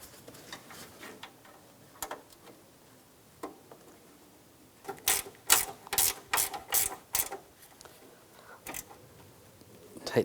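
Ratchet tightening radiator bracket bolts on a 2004-2009 Toyota Prius: quiet scattered clicks give way to a cluster of sharp, close ratcheting bursts in quick succession, then a few more isolated clicks.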